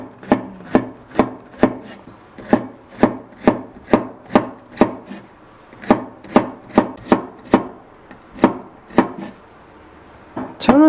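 A knife chops bitter melon on a cutting board in a steady series of about twenty crisp, close thuds at a regular rhythm, with no talking.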